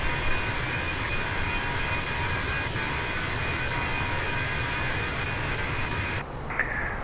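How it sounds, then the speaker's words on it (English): Airbus A321-200 in Microsoft Flight Simulator, a steady, broad jet engine roar with a faint high whine running throughout and a brief click near the end, no voices. "being a musician, I totally love the sound of the aircraft"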